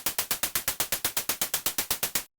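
A rapid, even run of synthetic white-noise hi-hat hits, each a sharp hissy burst with a quick decay, about eight per second, then it stops.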